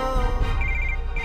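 A phone rings indoors in a domestic drama scene, giving a short, steady electronic ringtone with tonal beeping. It is close and fairly loud across the brief moment, with no talking.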